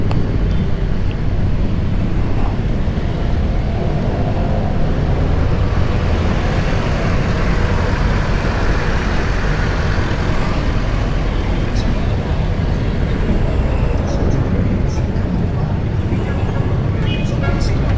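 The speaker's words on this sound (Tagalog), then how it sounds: "Grabe traffic." Heavy road traffic in Pasig: a dense, steady rumble of engines and tyres close by that never lets up, with faint, indistinct voices mixed into the din.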